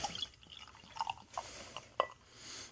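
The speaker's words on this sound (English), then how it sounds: "We pop her and pour" Humboldt 500 BC Double IPA beer is poured from the bottle into a glass, a quiet close-up gurgle with irregular splashes and drips as the liquid fills the glass.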